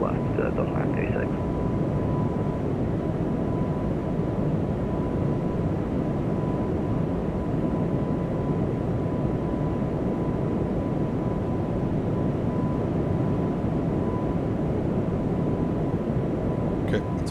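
Airbus A220 jet climbing past 10,000 feet in a flight simulator, a steady broadband engine roar droning continuously throughout with a faint constant tone, loud and unbroken, with brief radio-style voice bits at the start.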